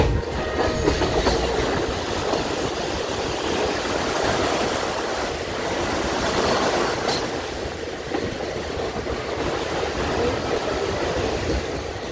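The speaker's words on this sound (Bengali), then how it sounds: "এখন ঢুকছে আমাদের ট্রেন নিউ ফারাক্কা জংশনে।" A passenger train rolling into New Farakka Junction near the Farakka Barrage, wheels clattering over the rails in a steady rumble with some screeching of metal, loud and continuous throughout with no talk.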